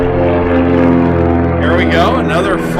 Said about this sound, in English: we got a lot of airplanes running around here. We're going to let that one go by